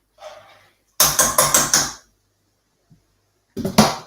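Dry lentils tipped into a cooking pot, a quick rattling cascade of small pattering hits lasting about a second, followed by silence and then a shorter second rattle.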